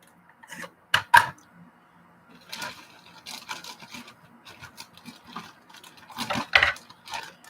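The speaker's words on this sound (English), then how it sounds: "We're going to need some scissors here." Scissors snip and rustle through the plastic packaging of Impossible Chicken Nuggets, giving a few sharp cuts followed by crinkling and handling noises, close up and with no talking.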